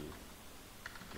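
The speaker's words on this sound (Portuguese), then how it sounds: "Vou digitar aqui" Faint, quick clicking of keys being typed on a computer keyboard while a spreadsheet is set up, a short run of soft taps against quiet room noise.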